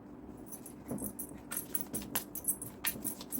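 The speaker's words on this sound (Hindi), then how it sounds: "सो पाइल 1 कार्ड्स शफल कर लेते हैं आपके।" Tarot cards are shuffled softly close by, with light riffling, slides and taps in an irregular patter, faint and sparse at first and then busier, with no talking.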